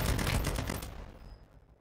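Rapid automatic gunfire from a Warzone Mobile battle royale match, a loud dense burst of shots for about a second that quickly tails off into quieter game ambience.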